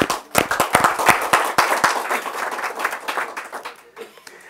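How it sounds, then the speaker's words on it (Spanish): A church congregation bursts into lively applause, many hands clapping together in a dense, uneven burst that runs steadily and gradually thins out, with no voices over it. "Un aplauso para Cristo."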